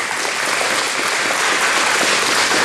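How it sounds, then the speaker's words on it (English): Loud, continuous applause from an audience at a political party gathering, a thick wash of clapping hands filling the whole moment without any speech on top. "Round of applause."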